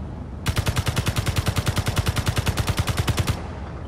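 Rapid automatic gunfire in the game Space Engineers, a steady burst of about thirty evenly spaced shots lasting around three seconds, loud and close, with no talking.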